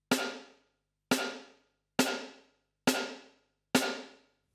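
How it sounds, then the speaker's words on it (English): Five evenly spaced electronic drum kit snare hits, each followed by a roomy reverb tail that decays before the next strike, with nothing else playing. "And then you have a nice reverb on your snare drum."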